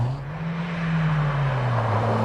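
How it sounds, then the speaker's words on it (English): A Datsun 1600 race car climbing a hillclimb course, a steady engine drone holding a sustained note with a slight dip in pitch, moderately loud with no voices. "Reece Molden now in the 1600 Datsun flying up the hill"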